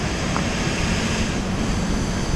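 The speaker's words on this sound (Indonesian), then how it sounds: "Angin mulai gede, Kas." Strong wind roars outdoors at night in a park in Bandung, a dense, steady rush buffeting the microphone throughout with no pauses and no voices.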